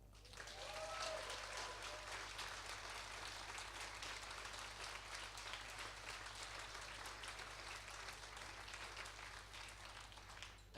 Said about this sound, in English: ask everyone to offer them a round of applause